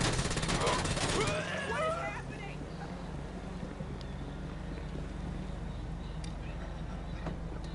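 Rapid bursts of gunfire from GTA Online cluster in the first two seconds, then give way to a steady low background hum and faint scattered game sounds.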